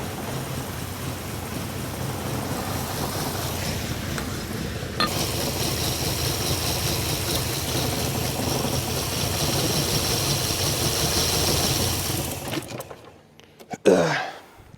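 An idling car engine running on beer drones steadily, roughness creeping into its tone as it begins to cough, then sputters and drops away near the end.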